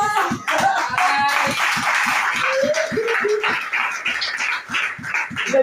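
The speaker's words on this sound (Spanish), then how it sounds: "Denle un aplauso al Rey" A crowd at a church devotional service claps in a quick, rhythmic beat, sharp regular hand claps repeating steadily throughout alongside brief tonal vocal sounds.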